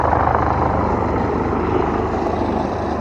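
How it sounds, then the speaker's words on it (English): A medical helicopter passes overhead on its way to land at a hospital in town, its steady rotor drone loud and continuous throughout with no talk. "That means that the helicopter's here for people who are injured or ill in the hospital"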